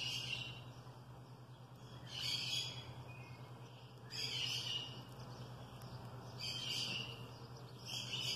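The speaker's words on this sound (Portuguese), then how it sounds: "Eles estão conversando, os passarinhos, um com o outro." Songbirds chirp back and forth outdoors in repeated bursts of high twittering about every two seconds, moderately distant over a steady low hum and insect-like background, with no talk.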